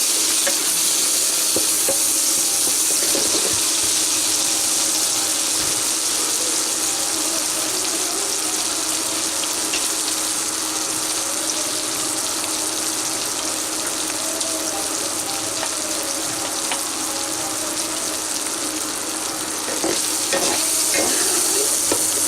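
Prawns fry in oil for a Bengali bottle gourd and prawn dish, a steady loud sizzle with light scraping of stirring and some watery hiss running through, no voices.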